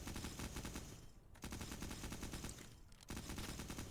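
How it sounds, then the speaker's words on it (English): Enemy automatic gunfire in the shooter game Cultic: loud, rapid, sustained bursts of shots, broken by two short pauses, with no talking. "Why is he still shooting?"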